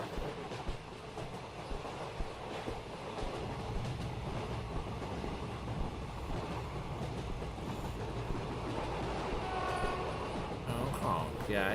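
Dense, continuous rumble and clatter of a train in the video game Anant Express fills the whole stretch, with faint horn-like tones rising near the end and talk mixed beneath.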